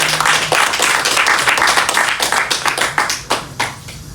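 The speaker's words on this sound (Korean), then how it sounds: "뜨겁게 박수하면 나오십니다" Church congregation at a spring revival service clapping warmly to welcome the senior pastor to the pulpit, a dense burst of hand claps that thins into scattered, separate claps near the end.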